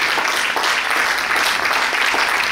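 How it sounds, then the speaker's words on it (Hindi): A crowd at a Diwali ball in Taipei claps steadily, a dense and continuous wash of applause that stays even and fairly loud throughout. "चलिए थोड़ी देर ताली तो बजती जानी चाहिए प्लीज"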